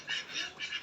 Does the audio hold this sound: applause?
no